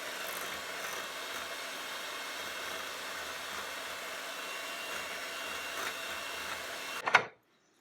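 An electric mixer whirs steadily at moderate volume, beating eggs one at a time into cake batter with vanilla and lemon juice for a strawberry crumb cake. It runs without a break for about seven seconds, then cuts off with a short clatter.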